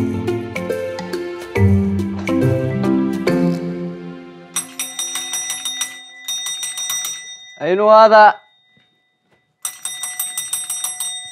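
A desk bell at a reception counter rung repeatedly in several quick bursts of bright ringing, mixed with music and a voice speaking.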